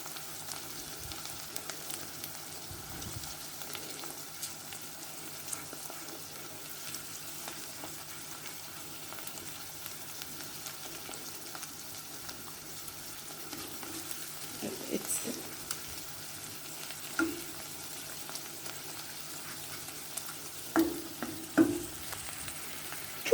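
Pepper paste being stirred and mashed into a frying pan while cooking buckwheat pilaf, a steady soft sizzle with scattered scraping and tapping, a few louder knocks of the spoon near the end.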